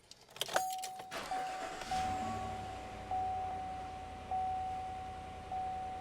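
A Chevy Silverado pickup, freshly fitted with a new alternator, cranks briefly with a clatter of keys, catches and settles into a steady idle with a faint whine over the low hum, heard close by with no talk.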